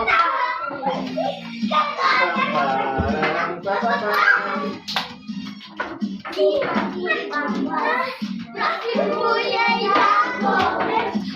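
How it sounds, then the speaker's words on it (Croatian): Children and adults clap in steady applause for a boy named Nemanja during a game of musical chairs, with children's voices and chatter running over the clapping throughout. "Aplauza Nemanju."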